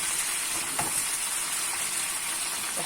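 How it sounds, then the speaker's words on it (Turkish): Small chopped peppers fry in a little oil over high heat, giving a steady, soft sizzle with a brief stir or clatter partway through. "Bakın şimdi bu biberler böyle küçük küçük doğranmış. Yüksek ateşte ve az yağda kızartacağım arkadaşlar."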